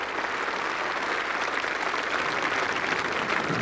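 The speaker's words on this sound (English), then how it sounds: "Big round of applause, and rightly so." Cricket crowd at Trent Bridge applauding during a Test match, England against West Indies, a steady, broad wash of clapping from a large stadium audience lasting throughout, moderately distant and even in level.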